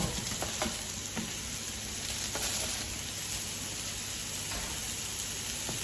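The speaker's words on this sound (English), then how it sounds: "now I'm going to add our chips and smiley faces" Potato chips and smiley-face potato shapes fry for salt and pepper chips, giving a steady, even sizzling hiss throughout with a few faint clicks and no voices.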